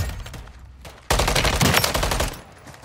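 Rapid gunfire at zombies in MW3 Zombies, a few scattered shots followed by a loud sustained automatic burst lasting over a second, then fading to lighter fire.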